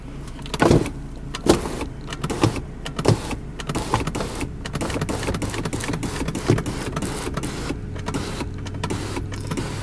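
Electric motors hum as the twin moon roofs of a 2004 Mercedes-Benz Kompressor slide open and closed. The whirring is steady and close, broken by a few clicks and thumps, and no one speaks.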